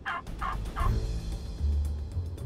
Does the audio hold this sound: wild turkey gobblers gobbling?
yes